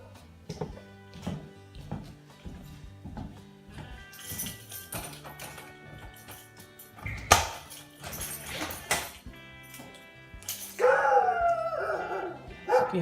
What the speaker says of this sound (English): Here's the dog. We have a dog next door.